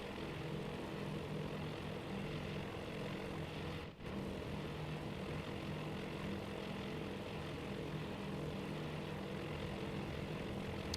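Steady, droning propeller engines of a World War II-era bomber in flight in a naval carrier strike game, a continuous loud hum with a brief dip in the middle.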